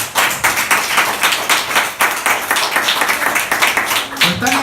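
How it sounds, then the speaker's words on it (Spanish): A church congregation claps and applauds in uneven, rhythmic bursts during a Spanish-language sermon, loud and close, with voices mixed into the clapping. "Ese aplauso sea para ti."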